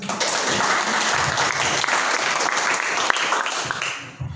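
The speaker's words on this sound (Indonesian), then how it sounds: "Kasih tepuk tangan dulu" Congregation clapping at an Indonesian Easter church service, sustained loud applause that continues evenly, then drops off abruptly at the end.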